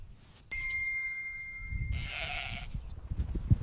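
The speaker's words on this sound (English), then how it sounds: "Look at the bouncy sheep." Sheep bleating on a farm, one clear sustained bleat followed by a second wavering call, close by with faint background noise.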